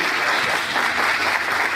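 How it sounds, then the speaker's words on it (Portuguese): A church congregation at a theological panel claps steadily together, a dense, even wash of applause filling the room at close range. "Você pode aplaudir o Senhor nessa noite?"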